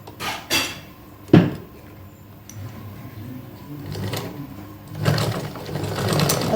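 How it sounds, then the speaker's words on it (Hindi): A sewing machine stitches a deep neckline on a garment in short stop-start runs with pauses, punctuated by clicks and fabric handling, the stitching growing louder and steadier toward the end. "अब हम इसको ऐसे सिलेंगे"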